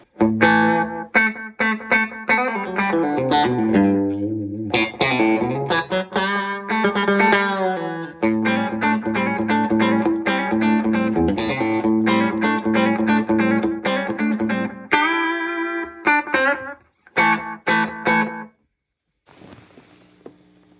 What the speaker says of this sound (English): But for other people, they love it. So, but this is it, just doing slapback.